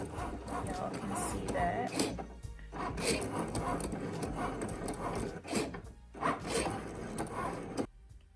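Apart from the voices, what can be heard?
Cricut Maker cutting machine cutting a flower shape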